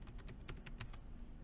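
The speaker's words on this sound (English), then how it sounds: "I'm going to type that so that you can see it here" A computer keyboard clicks out a quick run of about seven light keystrokes, quiet and close, with no voices.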